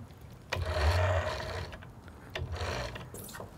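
The drag on an electric fishing reel is being tightened on a swordfish deep-drop rod. Two bursts of close, gritty mechanical ratcheting and whirring are separated by a short pause.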